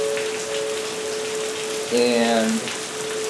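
Heavy flooding rain in Oklahoma pours as a dense, steady hiss. A tonal hum runs under it, and a voice briefly cuts in near the middle.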